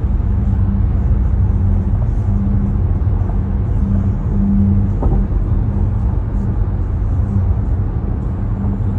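A car cruising on the 101 freeway in light traffic, heard from inside as a steady, loud low road rumble and engine drone that holds evenly throughout with no talking.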